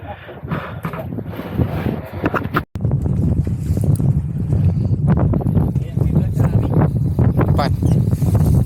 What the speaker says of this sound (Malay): Angin macam ni lah.